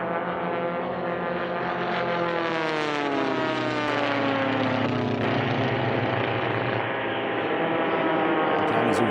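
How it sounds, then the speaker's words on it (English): Formula 1 class race planes with Continental O200 engines drone steadily, pitch sweeping as they pass, loud and continuous with a rising-falling whine; no talking heard. "all of these aircraft are flying the same Continental O200 engine"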